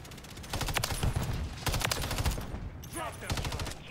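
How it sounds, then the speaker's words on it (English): Automated sentry gun fire in a hardcore-mode shooter video game, loud rapid bursts of machine-gun shots in two or three volleys, close and sharp, with a short gap between strings. "Oh, that's a sentry gun."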